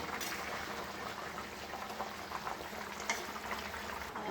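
Chicken curry simmering in a pot, a steady bubbling and sizzling wash with small pops scattered throughout, close and continuous with no voices.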